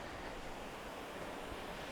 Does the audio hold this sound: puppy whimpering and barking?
no